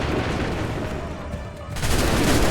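Soldiers firing a musket volley in Assassin's Creed III: a dense, loud burst of overlapping gunshots rising sharply near the end after a tense, rumbling buildup.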